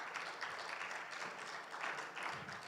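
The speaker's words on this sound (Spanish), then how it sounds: "Denle un fuerte aplauso al Señor, por favor." Church congregation applauding together during a sermon, a faint, steady wash of many hands clapping at once, held at an even level throughout with no voices standing out.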